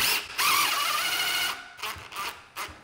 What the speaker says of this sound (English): to mount these to the wall, we simply attach these two screws into our box, just snug up to the ceiling